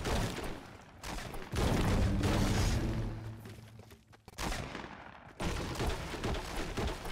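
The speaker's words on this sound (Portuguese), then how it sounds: "Mano, por que o cara tá atirando na árvore" Fortnite Mobile gunfire comes in heavy, booming bursts separated by short gaps, loud and close, with no talk.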